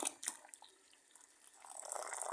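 Hot water poured into a yellowed enamel pot, a faint, soft splashing and trickle that fades briefly and then swells into a steady, hissing flow toward the end.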